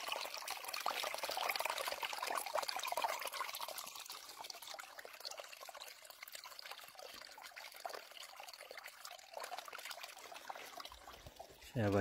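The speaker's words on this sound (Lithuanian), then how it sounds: "Čia va teka viskas" Water from a small spring in the Alytus district runs and trickles steadily near the microphone, a continuous liquid splashing and pouring sound that stays fairly even throughout.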